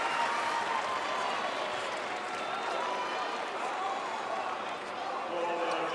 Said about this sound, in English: This is the crowd that's here at the Stratus Arena.